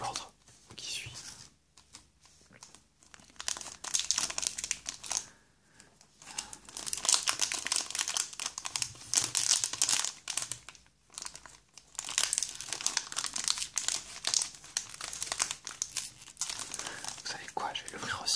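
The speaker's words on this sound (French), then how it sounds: "on va s'ouvrir les 3 boosters, évidemment" Pokémon card booster packs are opened by hand, the foil wrappers crinkling and tearing in close, irregular bursts, with soft whispered talk between them.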